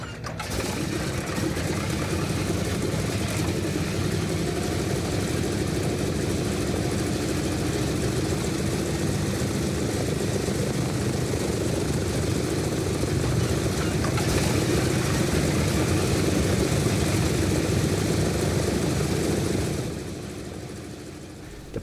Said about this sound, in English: the order to start engines came.